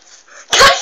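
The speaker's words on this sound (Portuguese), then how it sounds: "viu, gente? É cachorro." A dog barks once, loud and close, in a single sharp burst after a brief quieter stretch.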